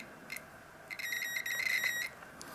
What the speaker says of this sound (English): I have it set up to do a connectivity test.